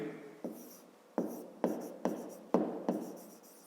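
Numbers are written by hand with a pen or pencil on paper, six short scratchy strokes in an uneven rhythm, close and quiet with no talk.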